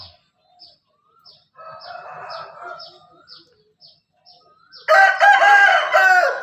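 A Burmese fighting rooster crows once at close range, a long harsh call near the end following scattered faint chirps and clucks from other birds in a quiet yard.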